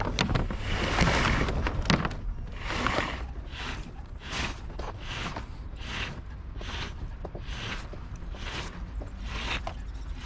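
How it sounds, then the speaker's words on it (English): Foresail hoisted on the sailboat Tapatya, its halyard hauled in a run of quick rasping pulls, each a short burst of rope through a block, repeating steadily over soft wind and water noise. "So we're going to pull up some foresail."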